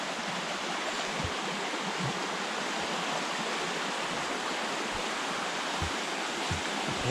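A flowing stream rushes steadily over rocks, a continuous broadband wash of water that stays even and close from start to finish with no voices.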